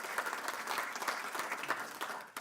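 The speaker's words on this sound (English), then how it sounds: "I think you should give yourself a round of applause" At a stakeholder report launch, an audience claps in a short, steady round of applause, fairly soft and distant-sounding throughout.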